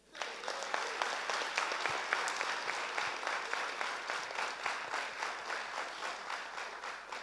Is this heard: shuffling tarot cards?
no